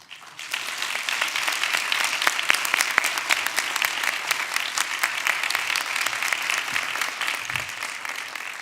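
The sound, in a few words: audience applause for finalists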